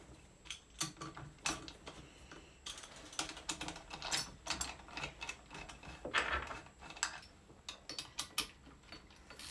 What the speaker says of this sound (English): I've never actually shifted this gearbox because it never had a gear stick.